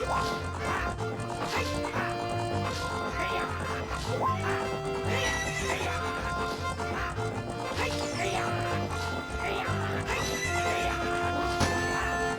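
A horse in Zelda: Ocarina of Time whinnies repeatedly over the rhythmic clip-clop of racing hooves, mixed with the game's musical score and sound effects, sustained throughout with a voice faintly present beneath.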